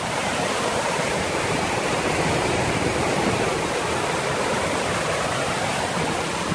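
Rushing water pours through a water crossing on an overland trail in North Carolina on a windy day, a loud, constant roar with no pauses.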